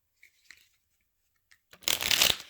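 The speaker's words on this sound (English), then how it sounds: "when I was shuffling" Tarot cards being shuffled by hand during a pick-a-card love reading: a few faint card taps and flicks, then a loud, dense riffling burst lasting under a second, close to the listener with no voices.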